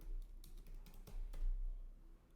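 Quick, light typing on a computer keyboard, with irregular clusters of soft key clicks close by.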